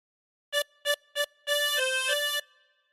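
A tremolo harmonica plays a short phrase of the nursery tune Hey Diddle Diddle: three quick separate notes, then a longer legato run that shifts pitch, reedy and close with no voices.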